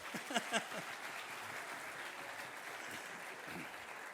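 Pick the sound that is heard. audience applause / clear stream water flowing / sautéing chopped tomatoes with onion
audience applause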